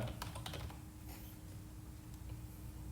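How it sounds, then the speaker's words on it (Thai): Keyboard typing at a computer, a quick burst of clicking keystrokes early on, then sparser taps over a low steady hum, with no talking. "เสร็จแล้วก็พิมพ์อนาคอนดา"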